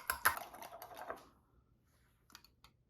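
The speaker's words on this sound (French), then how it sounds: "fouettez la préparation" Two eggs with a pinch of sugar whisked briskly in a bowl, a rapid clattering of quick strokes for about a second and a half, then near silence with a brief final tap or two.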